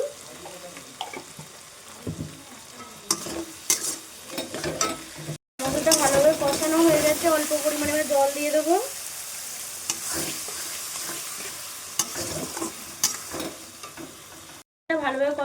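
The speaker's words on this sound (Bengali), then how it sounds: "হয়ে গেছে সবজিগুলো দিয়ে দেবো ভালোভাবে কষিয়ে নেব" Vegetables stir-frying in a pan with turmeric, chilli powder and salt for a Lakshmi Puja meal, a steady close sizzle with scraping stirs; a stretch of talk is heard through the middle.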